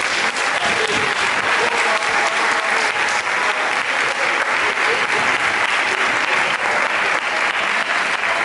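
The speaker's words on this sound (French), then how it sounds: "Un applaudissement, des applaudissements pour..." Sustained applause from a theatre audience, a dense even wash of clapping that holds steady and loud throughout with no voices above it.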